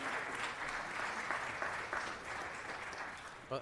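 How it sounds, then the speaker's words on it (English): Applause from a council meeting audience welcoming a visiting colleague, steady sustained clapping from a crowd filling the room for several seconds, moderately loud and even. "Let's give him a round of applause."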